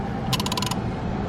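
A torque wrench ratchets out a quick burst of about seven close, crisp clicks in a short even run over a steady low workshop hum.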